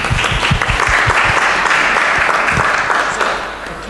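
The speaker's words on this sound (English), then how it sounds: "So I think we need to applaud" Conference audience at a Semiofest session applauding a presenter, a loud crowd of claps with a few sharper hits near the start, fading toward the end.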